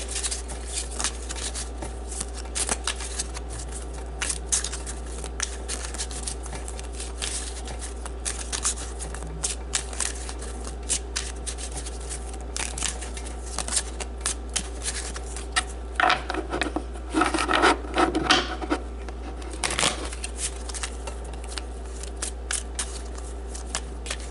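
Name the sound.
shuffling Gypsy cards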